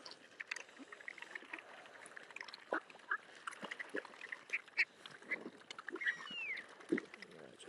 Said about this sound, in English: Just feed the birds for 5 minutes